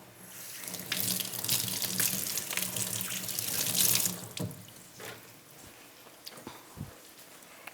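Tap water runs into a sink while brined chicken is rinsed under it, a splashing gush that swells and fades for about five seconds, followed by quieter drips and handling sounds.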